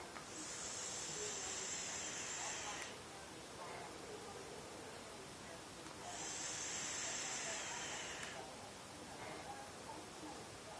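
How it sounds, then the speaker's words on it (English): Vapor exhaled from a vape loaded with VG and strawberry-flavored juice, two long breathy hisses a few seconds apart, close and fairly loud, each followed by a softer tail. "High volume vapor, steam, whatever you want to call it."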